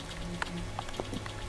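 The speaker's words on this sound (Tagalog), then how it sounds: "Ay, umuulan nga sa labas." Rain falling in the video game Grow a Garden, a steady soft patter with a few brighter droplet ticks over a low background hum, quiet and without talk.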